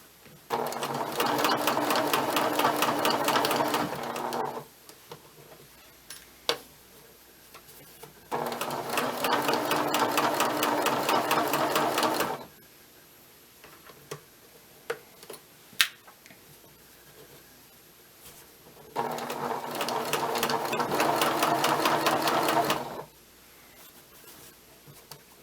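A sewing machine stitches and backstitches along a shirt hem in three sustained whirring runs, each several seconds long. Quiet pauses with faint handling clicks separate the runs.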